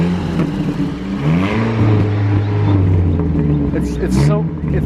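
A car engine revs through a homemade 10-foot-tall exhaust, a loud steady low drone rising and holding, with people talking over it throughout.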